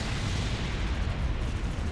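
Bombs exploding in the video game Halo Wars: a dense, low, continuous rumble of blasts rolls on steadily at moderate loudness for a couple of seconds, with no voices.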